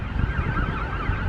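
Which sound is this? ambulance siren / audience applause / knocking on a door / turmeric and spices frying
ambulance siren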